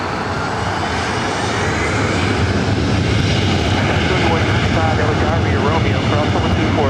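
A jet airliner takes off from runway 24 right at LAX, a loud, steady engine roar filling the whole stretch; an air traffic control voice is heard over it.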